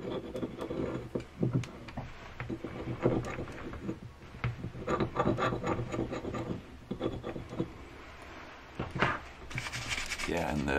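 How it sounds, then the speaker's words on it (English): Sandpaper rubbing over a hand-carved soapstone figure of a Norse god, giving steady rasping strokes in uneven bursts at close range, with no voices. "Then I use some sandpaper to soften the surface to make it smooth."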